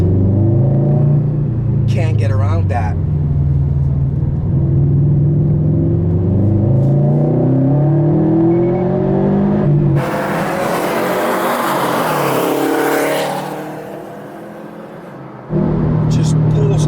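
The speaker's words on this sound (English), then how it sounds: "you have the sound of that exhaust" A 2017 Subaru WRX STI engine rumbles steadily under ongoing talk, rising in a surge of louder exhaust noise under acceleration partway through before easing off.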